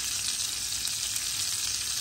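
Flounder pan-fries with rosemary, giving a dense, even hiss of sizzling oil heard up close and alone, steady without pauses.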